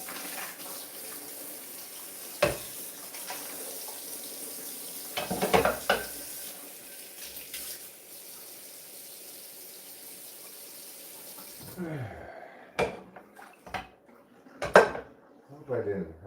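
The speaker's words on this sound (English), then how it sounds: "Might as well clean this pan while we're here. Pancake pan." A pancake pan is washed in a kitchen sink under running tap water with scattered clanks of the pan. The water shuts off near the end, leaving a few sharper knocks and splashes.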